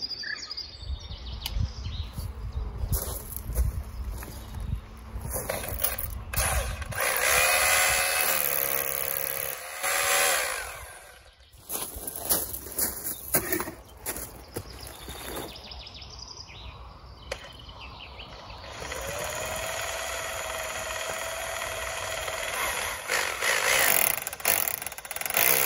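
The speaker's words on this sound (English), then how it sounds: "So I've had to buy a new drill." A new cordless power drill driving screws, whirring loudly in long sustained bursts, pitch rising and falling as it bites, with a brief pause between runs.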